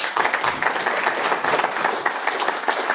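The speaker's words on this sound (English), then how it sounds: "Well, a round of applause first." A conference audience claps at the end of a technical security talk, steady, loud, many-handed applause that holds for about three seconds without speech.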